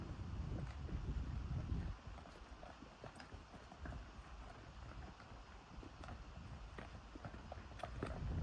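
Horses walk down to the bottom of a canyon, hooves clopping faintly and irregularly on rocky ground under wind and a steady outdoor hiss.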